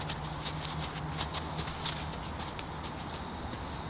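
Horse hooves clip-clop in a riding arena as horses meet and move about, a steady walking rhythm of soft, evenly spaced hoofbeats at moderate distance.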